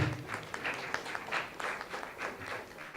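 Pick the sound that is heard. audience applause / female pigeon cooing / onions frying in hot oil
audience applause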